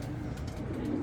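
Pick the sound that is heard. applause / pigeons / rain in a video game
pigeons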